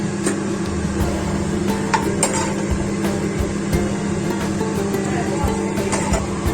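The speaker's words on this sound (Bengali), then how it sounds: "চিংড়ি মাছটা আমার ভাজা হয়ে গেছে, তুলে নিচ্ছি" Prawns frying in hot mustard oil while being stirred and lifted out, a loud, steady sizzling crackle with scattered clicks and scrapes throughout.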